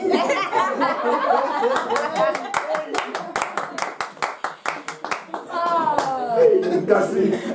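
A small group claps in a steady, brisk rhythm as excited voices chatter, cheer and laugh over the clapping.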